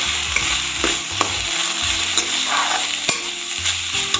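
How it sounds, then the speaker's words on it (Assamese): Grated coconut frying in a pan: a loud, continuous sizzle close by, with repeated scraping and clicking as it is stirred, and no talking. "এই নাৰিকলখিনি মই ভাজি আছোঁ এতিয়া।"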